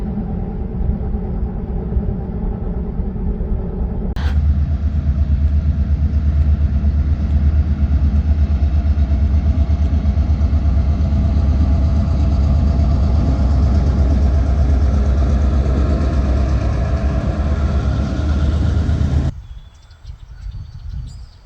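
A Bobcat 753 skid steer's diesel engine idles steadily on a trailer, a loud, close, constant low rumble that jumps up in level after a few seconds, holds, then cuts off near the end.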